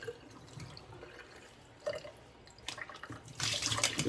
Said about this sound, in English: let's drain the water off the rice and we'll get the rice cooked